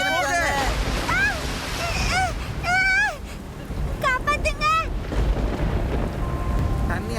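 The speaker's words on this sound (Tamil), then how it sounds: "மழை ரொம்ப வேகமா பெய்யுது" Heavy rain pours down in a city downpour with rushing floodwater, a steady loud wash of noise filling the whole clip while excited voices shout and call out over it.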